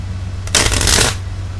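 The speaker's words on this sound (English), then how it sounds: "I do my little rifle shuffle." A rifle shuffle of a deck of playing cards, a quick close riffling burst lasting about half a second over a steady low hum.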